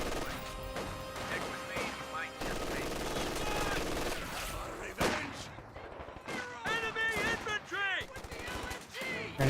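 An MG42 machine gun fires in the World War II strategy game Company of Heroes 2, with rapid bursts and heavy crashing impacts mixed into the game's sound, and a commentator talking over the action toward the end.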